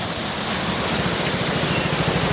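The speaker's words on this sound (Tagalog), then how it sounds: "Lakas ng buhos ng ulan na to." Heavy tropical rain pours down during a midday thunderstorm with wind, a dense, steady wash of noise that stays loud and unbroken throughout, with no voices.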